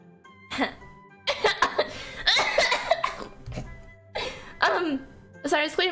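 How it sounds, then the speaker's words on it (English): A woman coughs and clears her throat several times in quick, rough bursts, close and fairly loud, with giggly laughter and speech mixed in between. "Sorry, it's clearing my throat."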